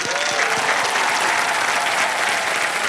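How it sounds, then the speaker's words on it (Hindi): Studio audience on an Indian TV quiz show with host Akshay Kumar bursts into loud, dense applause that holds steady for the whole stretch, a full crowd clapping close and continuous. "जोरदार तालियां इनके लिए"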